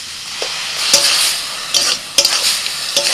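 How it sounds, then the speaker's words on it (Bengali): Spices frying in a pan after ground tomato paste goes in, a loud close sizzle with a few bursts of stirring scrapes and spatters. "লবণটা দেওয়ার পর আরও মিনিট 2 ভেজে নিয়ে এবার দিয়ে দিচ্ছি টমেটো বাটা।"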